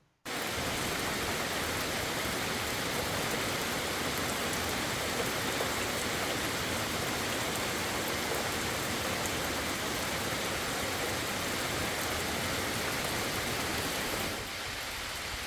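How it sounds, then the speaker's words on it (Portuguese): Light drizzling rain in the countryside of Mato Dentro, a dense, steady patter and hiss of drops falling evenly and continuously for the whole stretch, with no voices. "bateu uma chuvinha aqui no Mato Dentro, continua garoando"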